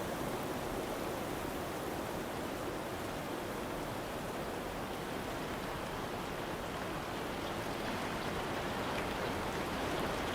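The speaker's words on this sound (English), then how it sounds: "The rain begins as a gentle percussion on the rooftops" Gentle rain falls on rooftops outside a hotel, a soft, even, continuous patter with no breaks or voices.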